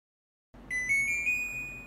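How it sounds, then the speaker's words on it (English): An inverter air conditioner unit gives a single sustained electronic startup beep after being powered on, a clear steady tone lasting over a second against a low electrical hum. "we hear the startup beep"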